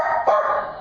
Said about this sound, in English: she learned to bark on command